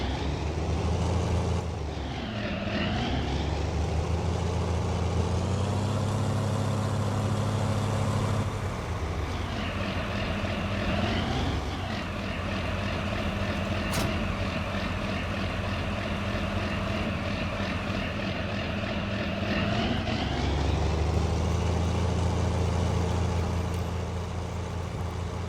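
A tractor seeding winter wheat in Farming Simulator drones continuously with a loud engine hum. The pitch dips and climbs at a few points as it slows and pulls, then it settles back into a steady, even tone.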